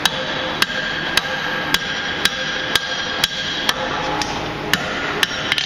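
A blacksmith's hammer strikes a half-inch iron pintle during forging. About a dozen sharp, ringing blows land at a steady, even pace, each one crisp and close.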